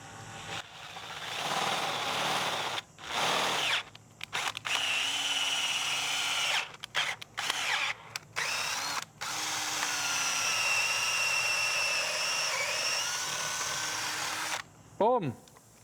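A drill bit bores out cylinder head bolt holes to 10.5 mm on a 4EFTE engine, the power-tool whine running in long bursts with brief stops, while voices talk over it.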